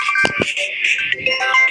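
A mobile phone ringtone chiming in a home, a bright repeating electronic melody with a couple of soft knocks early on.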